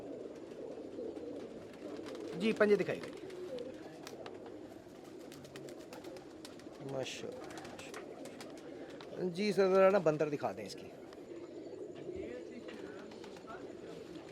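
Pigeons coo in a few short, soft bursts at a breeder's showing of Hira Lal pigeons with red eyelids, while someone talks steadily over and between the calls.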